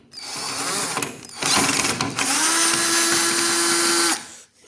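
A cordless power drill backs screws out of the body panels on an electric scooter. It runs in loud close-up bursts: a short whir, then a ratcheting run, then a long steady spin of about two seconds, with no talk over it.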